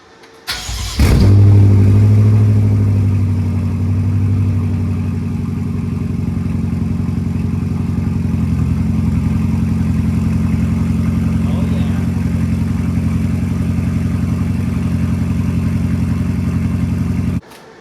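A BMW F10 M5 with a Turner muffler delete fires up with a sharp, loud bark, then settles into a deep, steady, rumbling exhaust idle that holds close and strong until it cuts off.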